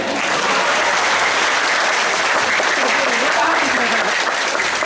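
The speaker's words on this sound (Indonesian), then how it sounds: "Tepuk tangan." An audience at a Barong performance during a Bali arts festival in Bangli applauds steadily, a dense, even wash of clapping from many hands that holds loud for the whole stretch.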